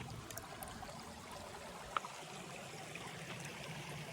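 Stream water at the source of the Saine river in Foncine-le-Haut, a steady soft rush and trickle running throughout with one brief click in the middle and no voices.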